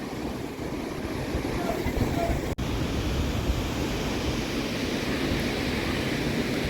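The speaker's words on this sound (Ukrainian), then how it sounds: "А річка ж яка тут бурна" A turbulent river rushes beneath Salmon Weir Bridge in Galway, Ireland, a loud, steady roar of churning water that continues throughout.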